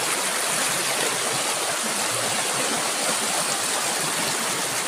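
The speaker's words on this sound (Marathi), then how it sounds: "आवाज लय येता पाण्याचो." A rocky mountain stream rushing loudly over stones, a steady dense roar of flowing water filling the whole clip with no voices.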